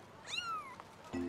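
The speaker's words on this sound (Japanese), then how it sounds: "猫だ。" A kitten gives a single clear, drawn-out meow at close range, with a short faint sound after it and a steady low hum toward the end.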